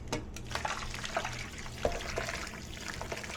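Hot liquid poured out into a kitchen sink, a steady splashing trickle with a few louder spatters, close and alone.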